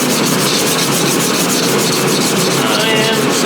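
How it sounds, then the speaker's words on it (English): Guide coat is sanded off car bodywork, a loud, continuous close-up abrasive rasp with rapid back-and-forth strokes and no pauses. "I'm gonna sand this guide coat off."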